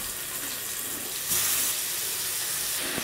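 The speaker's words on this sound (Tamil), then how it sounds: "இப்போ நம்ம இதில் மீனை ஒன்று ஒன்றா சேர்த்து ஸ்லோ ஃப்ளேமில் வச்சு ஒரு 5-6 நிமிஷம் பொரித்து எடுத்துக்கலாம்." Fish fillets frying one by one in coconut oil in a pan over a slow flame make a loud continuous hiss that swells briefly midway, close and without speech.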